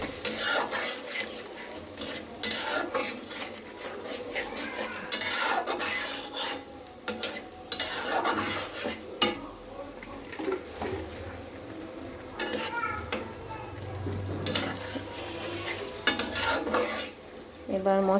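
Chili and turmeric powder spice masala is stirred and scraped in a pan while frying for a rooster chicken curry, with repeated rasping strokes of a spatula on metal in bursts and a faint sizzle underneath.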